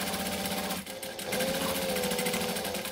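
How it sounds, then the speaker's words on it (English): A sewing machine runs steadily and loudly, stitching a seam from bottom to top, with a brief dip near the one-second mark before the motor resumes its even whirring drone. "I'm always going to sew from bottom to top. So I'm just going to sew."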